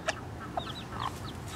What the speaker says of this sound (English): Yeah, baby chickies.